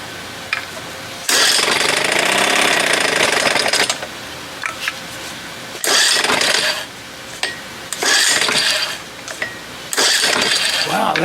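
A 1975 Johnson 4 hp outboard motor revving in loud, harsh bursts as the throttle is opened, several surges separated by quieter pauses with faint clanks, close by.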